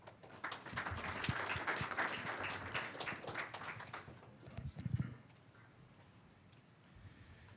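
Audience applause at a policy forum on Air Force budget, a warm sustained clapping from a seated crowd that fades out after several seconds into room quiet.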